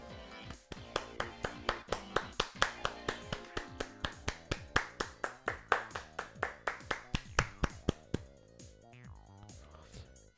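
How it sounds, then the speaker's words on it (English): Onlookers in the Higurashi video game break into a round of applause, a quick run of sharp, evenly spaced claps that begins loud and tapers into a looser patter near the end. "those watching delivered a round of applause, moved by my speech"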